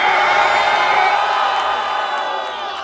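A crowd at a Brazilian underground rap battle cheers and whoops loudly and steadily, a dense wall of shouting voices that slowly fades over a few seconds.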